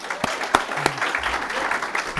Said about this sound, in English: If we give her a round of applause.